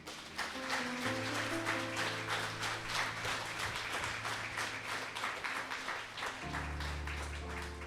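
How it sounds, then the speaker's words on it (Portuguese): Congregation applauding the Lord in a church service, steady broadband clapping throughout over sustained organ or keyboard chords. "Dê um forte aplauso ao Senhor."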